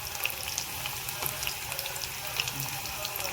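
Chopped onion fries in a pan over a lowered gas flame, giving a steady, faint sizzle with small crackling pops throughout.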